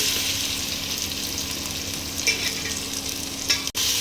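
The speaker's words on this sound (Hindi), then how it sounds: "हमारा तेल गरम हो गया है, इसमें अब हम प्याज डालेंगे।" Onions frying in hot oil in a heated pot, a steady close sizzle with a couple of brief stirring clatters and one sharp knock near the end, no speech.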